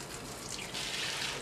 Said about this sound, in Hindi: इसे आप स्ट्रेन कर लेंगे।